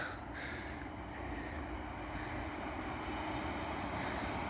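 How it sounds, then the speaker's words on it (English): A low, steady rumble of a train passing at a distance between Middlewood and Strines, continuous and fairly faint with no talking. "Good timing, train going past."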